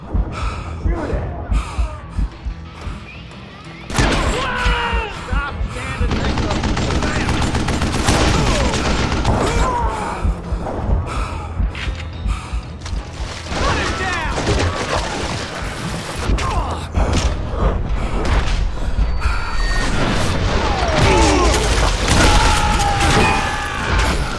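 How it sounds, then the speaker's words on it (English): A fusillade of gunfire in the Western video game Call of Juarez, with shots raining down from above, heavy overlapping bursts and gasps amid music, loud throughout, with a voice talking over parts. "a fusillade of bullets come raining down from on high"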